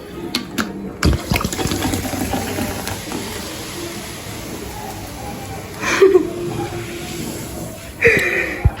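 Homemade juice is poured into a container with a soft, splashy liquid gurgle that swells in a few short bursts. Voices can be heard faintly nearby, along with some kitchen clatter.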